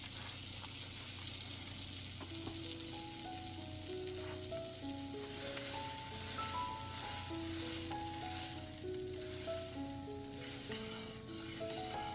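About a tablespoon of butter melting and sizzling in a warm pan, a soft steady fry hiss throughout, faint and continuous, with a melodic tune playing over it.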